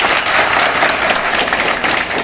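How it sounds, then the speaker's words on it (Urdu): A packed audience at a speech claps loudly and densely, a steady roar of hands that holds at full strength for a couple of seconds. "زوردار تالیاں بجائیں."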